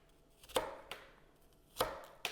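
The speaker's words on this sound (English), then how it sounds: "so we'll just chop those onions up" A knife chops onions on a cutting board in a few sharp, separate strikes with pauses between them, close and fairly quiet.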